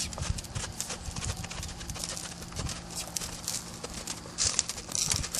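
Horse cantering in an arena, a steady close rhythm of hoofbeats thudding on the ground with some rustling and faint tack noise.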